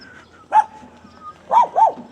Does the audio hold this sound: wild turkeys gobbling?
no